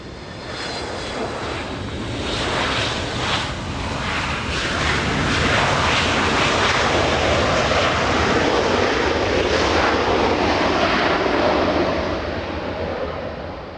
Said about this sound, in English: Rare opportunity that we get to hear the RB211s. This one, RB211s on the 75.